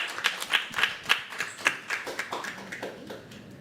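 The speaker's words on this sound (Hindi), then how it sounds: "और इन्हीं तालियों के साथ संजू साहब का स्वागत कीजिए।" A small audience at a poetry event claps to welcome a performer, a run of distinct, fairly rhythmic hand claps close by that fade slightly toward the end.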